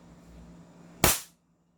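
A KP19 airsoft pistol on a 14 kg setting fires a single sharp shot, loud and close, against a quiet background with a short decay afterward.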